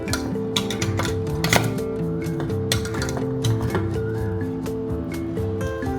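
Boiled elephant foot yam mashed in a pot for Chettinad karunaikizhangu masiyal, with repeated metal clinks and scrapes against the pot over steady background music, close and fairly loud.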